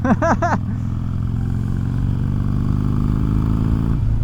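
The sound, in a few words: motorcycle engine running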